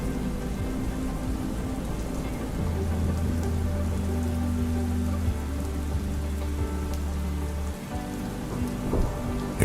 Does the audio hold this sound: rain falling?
yes